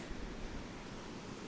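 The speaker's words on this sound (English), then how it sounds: "You see the waves moving in and out." Ocean waves move in and out on a Hawaii shore, a soft, distant, continuous hiss of surf with gentle swells and no voices.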